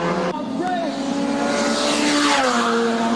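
Turbocharged race car engines roar loudly and continuously nearby at Clark International Speedway during a memorial race, with pitch sweeping up and down as cars accelerate past.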